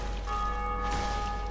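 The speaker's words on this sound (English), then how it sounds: "There's someone else ringing the bell." A church-style bell rings in the Undead Parish of the video game Dark Souls, a sustained metallic tone with bright overtones ringing out clearly and steadily, with no voices over it.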